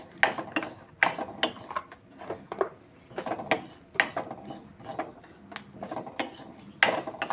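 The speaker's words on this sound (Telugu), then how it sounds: "ఇప్పుడు మనం నెక్స్ట్ మెంతులు కూడా వేయించేసుకుందామండి" Fenugreek seeds being dry-roasted in a metal pan, heard as repeated scraping and clinking strokes of a spoon against the pan in an uneven rhythm, close and moderately loud, with no talking.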